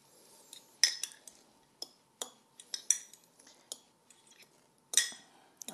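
A green onion and celery filling is mixed in a bowl with a utensil, producing scattered metallic clinks and taps against the dish. The clinks are close but soft, with quiet scraping in between.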